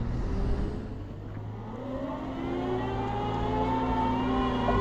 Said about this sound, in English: Some wee digger driving about.